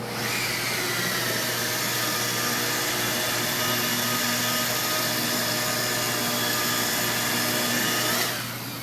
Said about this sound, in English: This is called a lightweight compact rotary buffer.